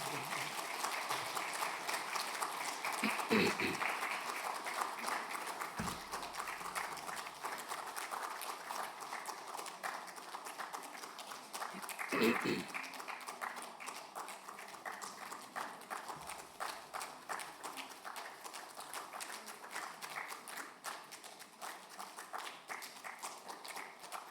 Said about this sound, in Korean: 큰 박수로 우리 격려하겠습니다.